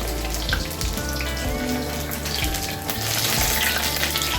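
Malabar spinach leaf fritters frying in oil, producing a continuous bubbling sizzle with small crackles, close and fairly loud throughout.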